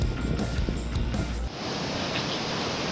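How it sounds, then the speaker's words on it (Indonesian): Big ocean waves roll in at Dlodo beach in Tulungagung, a broad shore of mixed white and black sand, making a steady loud surf roar with a heavier low rumble in the first half that then eases to a constant hiss. "Dan ombak di sini sangat besar."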